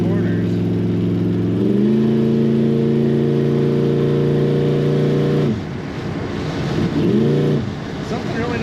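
A 1975 Chevrolet Corvette coupe's engine breathes through chrome side pipes while driving: a loud, steady throb rises in pitch as it revs, drops off sharply, then swells back up in a brief second rev near the end.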